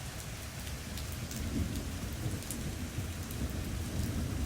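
Heavy rain pours steadily onto a yard, a dense, even hiss with occasional louder splatters and a low rumbling undertone.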